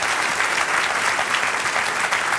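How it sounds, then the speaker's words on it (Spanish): A church congregation applauds during a Spanish-language service, a loud, dense and continuous burst of clapping from many hands with no talk over it. "Denle un aplauso al Señor por su bendita palabra."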